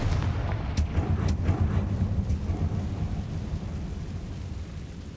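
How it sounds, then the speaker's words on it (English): A Confringo fire spell blast goes off in Hogwarts Legacy, a deep rumbling boom with sharp crackles at the start that rolls on as a steady, loud low roar and slowly fades out. "Confringo!"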